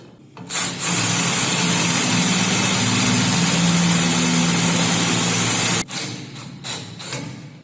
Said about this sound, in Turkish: büyük bir matkapla delme işlemini gerçekleştirin